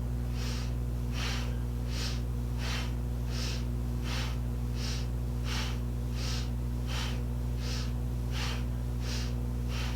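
Rhythmic breath of fire during a Kundalini yoga exercise, about a dozen sharp, evenly spaced exhalations per ten seconds, close and steady over a constant low hum.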